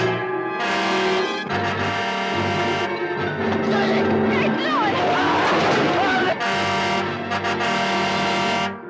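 A car engine rumbles and roars amid dense, dramatic horror-trailer sound, a loud, sustained mix where swelling music and a narrating voice partly bury the motor.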